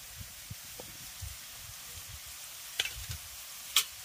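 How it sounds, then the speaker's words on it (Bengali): Onion and chili fry in a pan with turmeric and chili powder, giving a soft, steady sizzle with occasional light clicks of stirring, close and fairly quiet. "পেঁয়াজ আর লঙ্কাটাকে হালকা করে আগে একটু ভেজে নেব"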